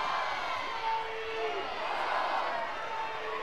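A stadium crowd at a college softball game, Tennessee against Nebraska, cheers and roars steadily after a home run, a broad sustained wash of noise with a commentator talking over it.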